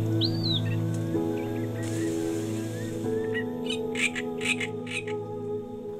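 Birds calling along the shore of Lake Neusiedl in Austria, with several short chirps and squeaky calls over a steady low hum of background noise, getting busier toward the end.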